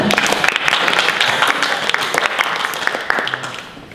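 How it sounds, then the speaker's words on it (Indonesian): A community gathering in Indonesia bursts into clapping, many hands applauding fairly loudly before the ovation gradually thins and fades toward the end. "Tepuk tangan dulu dong."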